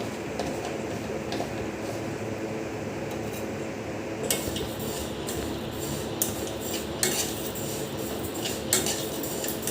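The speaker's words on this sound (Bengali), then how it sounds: "মুগ ডাল দেওয়ার পর ওকে ভালো করে নাড়িয়ে নিতে হবে।" Moong dal being stirred in a wok, a soft continuous scraping with light metallic clinks and taps of the utensil against the pan, quiet and steady.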